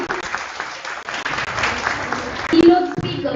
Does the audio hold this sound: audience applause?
yes